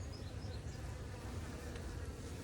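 Honeybees swarm thickly over both sides of a frame lifted from a hive, giving a steady, dense, low buzzing hum that holds unbroken throughout.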